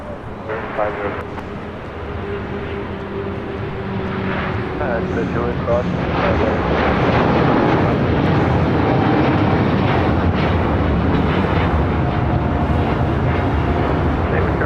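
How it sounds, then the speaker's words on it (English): El Al Flight 6, an airliner departing LAX for Tel Aviv, roars through its takeoff run as a broad, rising engine rumble that swells and holds steady, with people talking over it and wind buffeting the microphone. "That was LL Flight 6 taking off to Tel Aviv."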